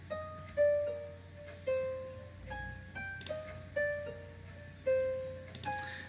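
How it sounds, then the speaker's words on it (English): Natural harp preset from the FL Studio stock plugins plays a plucked melody with reverb and delay, each note ringing and decaying in an even, moderately loud phrase with no talking. "So this is the natural harp."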